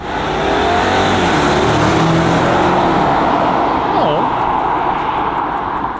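A 2025 BMW M5 G90 hybrid with 727 hp makes a launch start, its engine and drivetrain noise building steadily and loud for several seconds while people talk.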